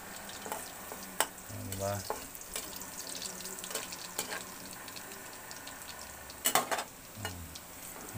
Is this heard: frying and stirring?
yes